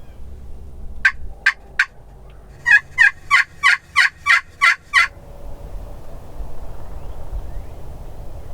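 Several wild turkeys gobble from the woods, a few spaced single gobbles followed by a rapid run of six or seven loud, rattling gobbles, then quiet outdoor ambience.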